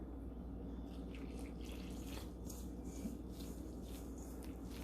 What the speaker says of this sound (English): Then we're going to add water.